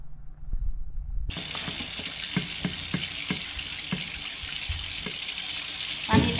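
Rice being rinsed in water in a home kitchen after the gas is turned off, a continuous close running and sloshing water sound with repeated light knocks and a louder splash near the end.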